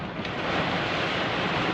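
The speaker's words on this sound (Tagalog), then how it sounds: "lakas ng ulan niyayanig yung sa ano taxi natin sa sobrang lakas ng hangin" Strong wind and heavy rain buffeting a taxi during a storm, a dense steady roar of wash and gusts that stays loud for under two seconds.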